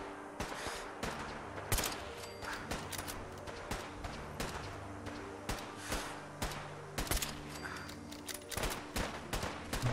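Gunners firing in Fallout 4 unleash rapid, repeated gunshots and bursts of automatic fire at mid distance, a steady crackling fusillade with no voices over it.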